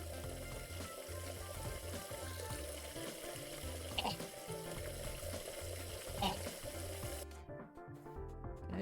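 Water running in the Catlateral Damage: Remeowstered game, a continuous tap-like gush over looping game music, with a couple of brief clinks and the sound cutting out near the end.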